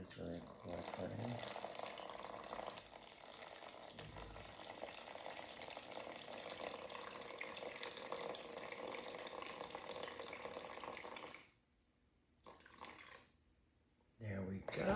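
Water for bread dough runs steadily from a tap into a container for about eleven seconds, a faint, continuous splashing flow that stops briefly and then resumes, heard close in a kitchen.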